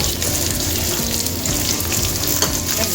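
Onion, dried red chillies, garlic and curry leaves crackle loudly in hot oil for a lentil and brinjal kootu, a dense continuous sizzle with sharp pops and spits throughout.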